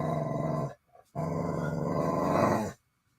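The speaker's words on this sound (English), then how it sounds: "She was looking at her tail and growling." A dog growls at its own tail in two sustained, close, loud rumbling bursts separated by a short pause, with no talking over them.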